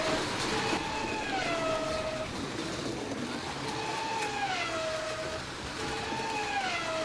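A Scalextric slot car Ford Mondeo laps the track, its motor whine rising and falling in repeated sweeps every few seconds over a steady background rumble.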